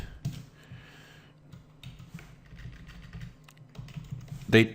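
Typing on a computer keyboard: scattered clicks of keys, close and fairly quiet, in short bursts with pauses.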